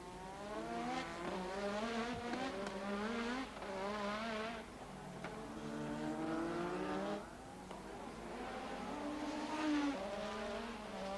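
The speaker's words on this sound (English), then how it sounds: "Prost now coming up to our camera car, Patrick Tambay, who waves him past." Formula One cars race at the 1986 Australian Grand Prix in Adelaide, engines whining through repeated rising pitch sweeps as they accelerate and shift gears, fairly faint and distant with no talk over them.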